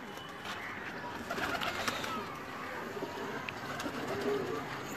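Pigeons cooing on a rooftop loft, with a steady murmur of soft coos and bird calls through the whole stretch amid open-air background noise, some faint voices underneath.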